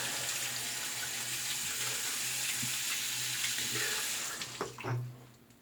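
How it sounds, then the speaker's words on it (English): Cool water runs from a bathroom tap in a steady close hiss that thins out near the end, with a few clinks and splashes. "That's about as cool water as I'm going to get out of this tap"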